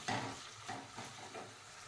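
Green chillies, sliced onions and curry leaves fry in a pan for a dhaba-style okra masala curry, a quiet steady sizzle with a few soft stirring scrapes and spoon clinks near the start and in the middle.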